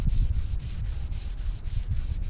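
A brush scrubbing an RV wheel outdoors, producing a steady rhythmic rubbing and scraping with repeated strokes, close to the microphone and fairly loud.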